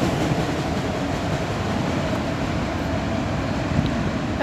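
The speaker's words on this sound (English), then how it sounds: "auto rack train." A passing auto rack freight train rumbles steadily close by, a dense continuous roar of rolling cars with no break throughout.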